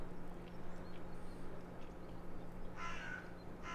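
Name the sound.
crow cawing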